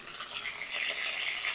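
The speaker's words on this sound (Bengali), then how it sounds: "পটলে জল ছিল তাই তেলের ভিতরে ছাড়ছে।" Pointed gourd fries in mustard oil in a kadai, giving off a steady, close crackling sizzle as water from the gourd spits in the hot oil. No voices are heard.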